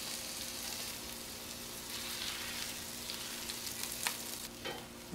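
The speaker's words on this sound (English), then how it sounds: "Put it right here on the front and let it sear." A steak sears on a hot flat-top griddle, giving a steady loud sizzle and crackle throughout, close and continuous with no speech.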